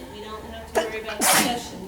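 A sneeze bursts out partway through a lecture-style classroom setting, preceded by a brief sharp intake, loud and close while a person keeps talking about coursework around it.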